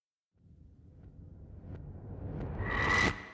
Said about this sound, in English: Then we have this monster reverse.